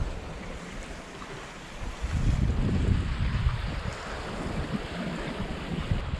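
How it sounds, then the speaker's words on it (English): Steady wind rush and breaking waves at sea aboard a sailboat making about five knots, a broad continuous roar that swells louder midway, with no voices. "The wind's been really up and down all day long."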